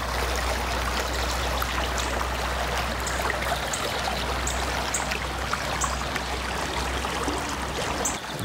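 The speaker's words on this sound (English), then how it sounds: "The sound of the water is just incredibly beautiful." River water rushes steadily and continuously, a close, full wash of flowing water with no voices.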